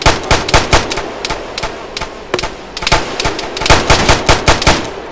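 Rapid bursts of automatic rifle and machine-gun fire in Arma 3, loud and close, in clustered volleys with brief pauses between, plus scattered single shots.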